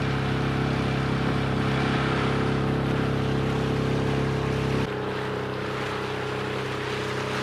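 A dinghy motorboat's outboard engine drones steadily on a ride to the dock in the Bahía de Banderas near Yelapa. Water and wind rush beneath the engine, and its tone drops partway through as the throttle eases.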